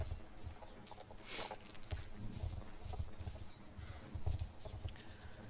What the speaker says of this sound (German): Nein, da reiten wir jetzt mit dem Pferd hin